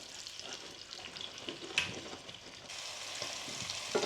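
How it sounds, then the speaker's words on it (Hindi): Chopped onions frying in hot oil for chicken keema and biryani, a faint steady crackling sizzle with a few light stirring scrapes, quiet and close, no voices. "ऑयल गरम करके उसके बाद उसमें डालना है अनियन जो हमने कट किया हुआ था"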